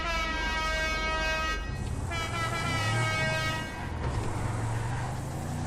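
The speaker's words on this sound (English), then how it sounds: "how about the nice club air horn?" A loud, brassy multi-tone club air horn on a car in a video game blares continuously, shifting pitch partway through, over a low engine rumble.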